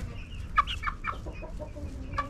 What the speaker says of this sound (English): I'm thinking this one might be a rooster.